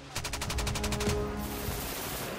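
Burst of rapid automatic fire from an M249 SAW machine gun shooting linked 5.56mm rounds, about ten closely spaced loud shots over roughly half a second, then a fading echoing tail with no talk.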